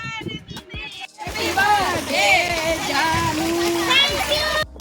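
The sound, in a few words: water turned on, flowing and splashing at the farm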